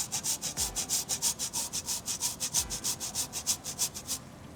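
Frozen ginger scraped across a microplane grater in a kitchen, a close, rhythmic rasping of quick, even back-and-forth strokes that fades out at the end.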